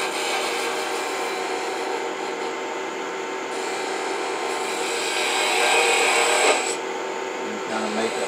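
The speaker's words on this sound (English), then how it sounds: "I'm going to switch to my 3/8 inch spindle gouge for that slope" A 3/8 inch spindle gouge cuts a wooden chess piece on a spinning lathe, giving a steady, close, continuous scraping hiss that swells slightly near the end, with no pauses.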